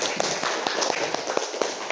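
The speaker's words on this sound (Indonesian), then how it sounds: "Tepuk tangan deh buat kalian semua" A classroom of students clapping hands in applause, a dense patter of many quick, overlapping claps at close range, steady throughout with no voices on top.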